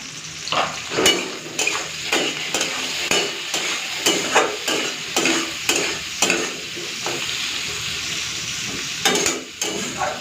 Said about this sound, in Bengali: তো তেলটা গরম হয়ে গেছে, এখন এই উচ্ছেগুলোকে ভেজে নেব